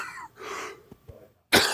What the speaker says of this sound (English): I got so much coughing.